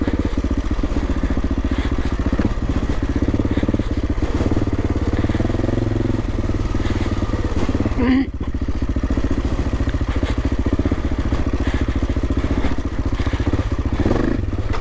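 An AJP PR7 motorcycle engine runs loud and close, its pitch rising and falling as the throttle opens, with a brief clatter midway.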